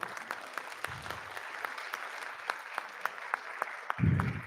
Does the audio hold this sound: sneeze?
no